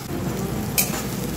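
Yogurt-based masala sautéing in oil while making shahi corn potol, a steady soft sizzle with faint stirring noise and one brief sharper crackle near the end.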